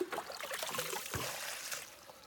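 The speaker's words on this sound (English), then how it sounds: "See how the water's flowing out." Water is poured into a planting hole for a berserker root plant, giving a faint, close splashing trickle with a soft gurgle partway through, and no talking.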